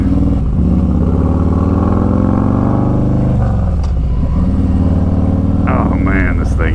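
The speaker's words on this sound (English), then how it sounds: "I love the sound of this bike" Harley-Davidson Street Glide Special FLHXS motorcycle engine rumbling steadily and loud while riding, with a deep continuous drone, wind noise, and a rider talking over it.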